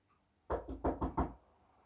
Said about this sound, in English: He's knocking.